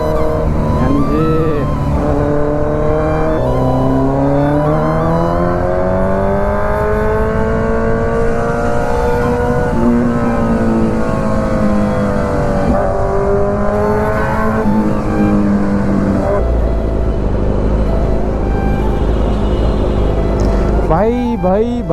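Kawasaki Z900 motorcycle exhaust revving up and down on the road, a loud, close engine drone whose pitch swells and sinks in long sweeps, ending with a sharper burst of revs.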